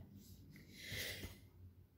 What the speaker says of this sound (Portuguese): Eu vou espirrar de novo, olha aí, ó.